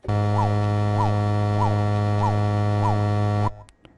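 A thick, buzzing reese bass drone from saw oscillators in Ableton, with a wobbling, sweeping tone repeating about every half second, cutting off abruptly near the end.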